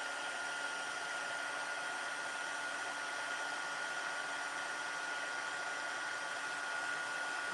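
A handheld heat embossing tool blowing hot air over a handmade Christmas card, a steady continuous whirring hiss held at an even level throughout, close and without talk.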